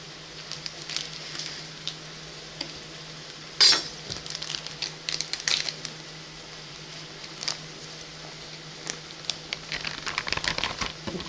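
Meat browning in a pan for beef bourguignon, a steady soft sizzle and crackle running throughout with occasional clinks and scrapes of utensils, close by and without talk.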